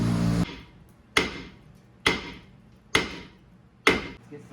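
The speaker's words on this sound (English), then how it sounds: "Grab yourself the biggest hammer you have available" A big hammer strikes a rusted-on front brake rotor of a 2008-2011 Mazda 5 five times at a steady pace, each a sharp metallic bang with a ringing decay, alone and close.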